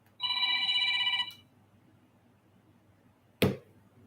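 A telephone rings with one bright electronic trill burst lasting about a second, followed by quiet room tone and a single sharp click near the end.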